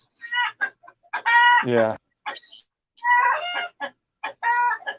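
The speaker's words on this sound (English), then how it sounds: "Look, my chicken laid an egg." Chickens cluck loudly and close by in a farmyard, in a rapid run of harsh, uneven calls with short gaps between them. A person briefly speaks a word between the calls.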